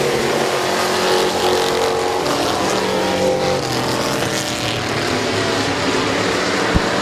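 Race cars roaring around the oval at Midvale Speedway, a loud continuous engine drone with shifting pitch as the pack passes, filling the whole stretch.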